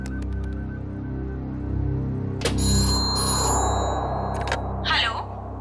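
A telephone rings out after a call is dialed, with a steady repeating electronic ring tone heard clearly over a low background hum and a brief bit of vocal sound near the end.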